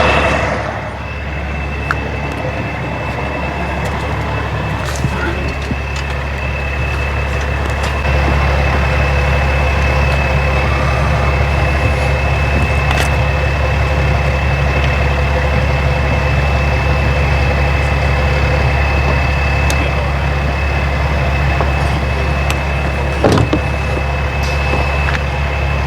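A tow truck idling nearby in a parking area beside a second-generation Ford Edge Sport, its engine giving a steady, loud low rumble that holds throughout with small variations and no talk.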